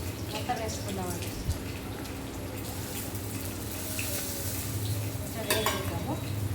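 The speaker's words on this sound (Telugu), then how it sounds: "నూనె వేడైందండి. దాంట్లోకి ఎండుమిర్చి వేసుకుందాము. ఎండుమిర్చి, ఉల్లిపాయలు, జీలకర్ర, ధనియాలు మొత్తం వేసుకుందామండి." Dried red chillies, onion, cumin and coriander seeds frying in hot oil for a nalleru chutney, heard as a moderate steady sizzle with a spoon scraping and stirring the pan and a voice talking over it.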